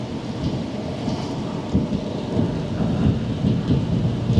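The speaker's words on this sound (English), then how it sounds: "So this is where the rain is at right now." Steady rain pours down, a dense continuous hiss and patter with low rumbling undertones throughout, no voices.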